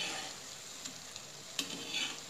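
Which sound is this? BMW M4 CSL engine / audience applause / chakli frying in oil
chakli frying in oil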